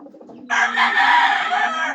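A rooster crows once, loud and close, a full cock-a-doodle-doo that starts after a brief stretch of soft clucking and carries on for about a second and a half.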